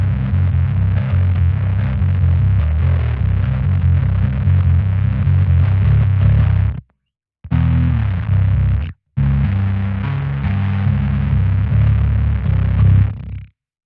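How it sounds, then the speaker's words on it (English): Clean, undistorted bass guitar plays a steady run of low, sustained notes, cut by two short silent gaps before the line resumes and stops cleanly. "at the moment we've got just a clean bass"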